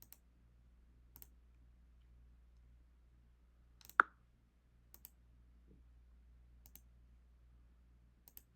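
Typing on a computer keyboard gives sparse, faint clicks spaced over several seconds, with one sharper louder tap midway, in an otherwise quiet room with low hum.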